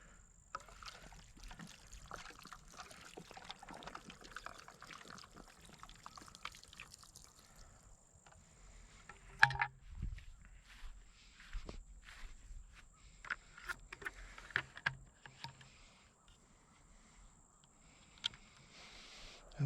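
Water poured onto garden pepper plants splashes and trickles unevenly outdoors, with scattered footsteps and rustling around it; no voices.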